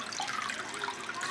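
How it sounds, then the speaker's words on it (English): Water pouring steadily into a cooking pot to rinse grated ginger and garlic off, a continuous close splashing and gurgling stream. "I'm adding about 300 to 400 milliliters of water"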